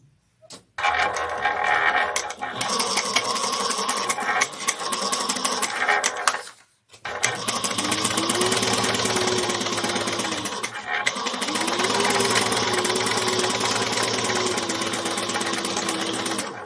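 A sewing machine runs a half-inch seam on a handbag, a steady fast mechanical whir of stitching in two long bursts with a brief pause between, close and loud with no speech.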